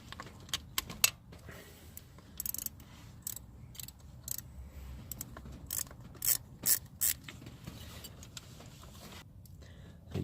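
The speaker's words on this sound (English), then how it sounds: "So you loosen the top, or the nut." Ratchet clicks and metallic rubbing as a nut is loosened on an ignition distributor during a Pertronix Ignitor install, with short bursts of clicking scattered over a low steady background hum.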